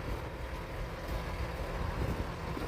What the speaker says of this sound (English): Big bulldozer idling here on North Avenue Beach.